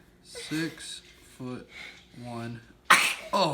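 One sudden, sharp sneeze bursts out near the end, just after a few short spoken words from people in a farmhouse under renovation. It is close and louder than the talk.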